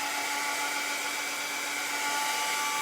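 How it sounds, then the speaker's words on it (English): A hair dryer blows on wet paint on a sunflower door hanger, giving a steady, even whir of rushing air that holds unchanged from start to finish with no talking. "I'm gonna throw the dryer on it just a little"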